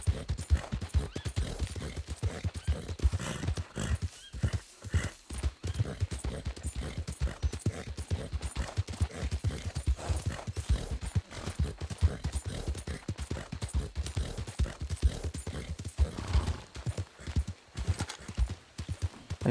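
Horse hooves clip-clop in a steady, rapid gallop rhythm throughout, loud and close, in a video game with an occasional faint whinny and brief bits of talk underneath.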